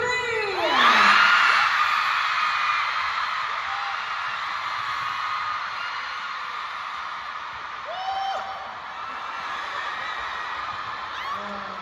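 Concert audience cheering and screaming at a Filipino dance performance, a dense loud roar with whoops and shrill shouts swelling near the start, then holding steady for about twelve seconds.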